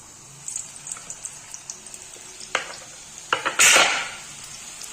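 Diamond-cut Diwali snack dough dropped into hot oil in a pan: scattered clinks of a spoon against the vessel, then a sudden loud burst of sizzling that fades into a softer bubbling fry.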